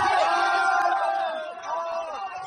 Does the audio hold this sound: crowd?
yes